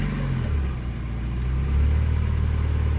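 A 1990 Mazda Miata engine, fitted with new spark plugs and wires, starting up close by, a cranking rumble that catches and rises into a steady, slightly louder idle.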